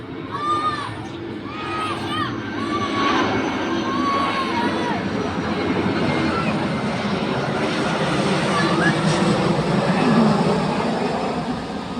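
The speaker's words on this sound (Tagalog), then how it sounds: "Naipadong eroplano." An airplane takes off near Tagbilaran City, a steady loud engine roar that swells and holds, with a crowd and voices audible early on.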